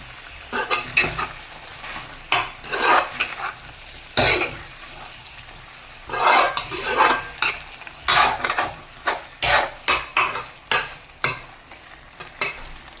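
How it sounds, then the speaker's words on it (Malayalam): Beef fry stirred with garam masala in a pan, with a sizzle under repeated rhythmic scrapes and clanks of a spoon against the metal, close and loud, with no voices. "ഒരു ടീസ്പൂൺ ഗരം മസാല ഇളക്കി നന്നായിട്ട് നമുക്ക് യോജിപ്പിക്കാം"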